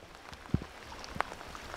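Rain falls outdoors on the Isle of Mull, a faint soft patter with a few distinct drops striking a nearby surface.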